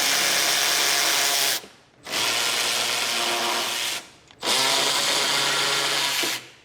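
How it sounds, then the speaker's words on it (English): A power tool with a 14mm socket spins off the strut top mount nuts on a Honda Civic, three loud, steady whirring bursts of about two seconds each with short pauses between, close and with no voices. "Use a 14mm socket to remove the strut top mount nuts."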